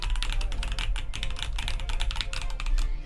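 Fingers type quickly on a custom mechanical keyboard fitted with strongly tactile switches, making a close, steady patter of crisp clacking keystrokes.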